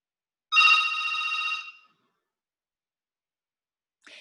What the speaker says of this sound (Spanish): Y el sonido del celular para mí es como un llamado.